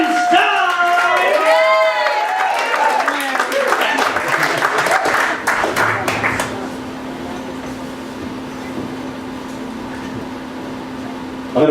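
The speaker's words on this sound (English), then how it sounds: "keep that clap going for this next act" Comedy club audience applauding and cheering for the next act, a dense burst of clapping and voices that fades out midway, leaving a low steady room hum.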